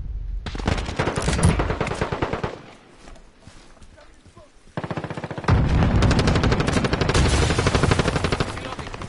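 Rapid automatic gunfire in a close-quarters match of Call of Duty: Modern Warfare, a loud burst, a quieter gap with scattered sounds, then a long dense stream of shots.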